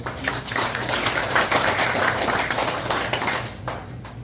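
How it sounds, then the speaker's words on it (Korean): Members at a Pyeongsan Shin clan general meeting in Sacheon applaud in a dense, busy patter of claps that holds steady for about four seconds, then drops off abruptly. "큰 박수 부탁드립니다."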